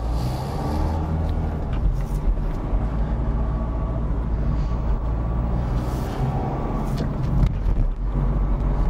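Car pulling away in first gear on a Paris street at dusk during a commented driving lesson, a steady engine hum with road noise and some faint knocks and clicks, no talking.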